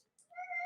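A lone cat meow, faint but clear, starts partway in and holds a steady, drawn-out tone to the end with no talking over it.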